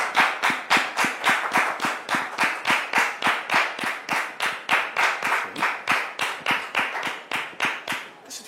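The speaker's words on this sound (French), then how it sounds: "Public, merci de le recevoir avec vos applaudissements." Studio audience on a French talk show claps to welcome a husband onto the set: a steady, rhythmic unison clapping, loud and close, continuing evenly for several seconds before tapering slightly.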